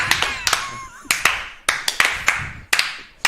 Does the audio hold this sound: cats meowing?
no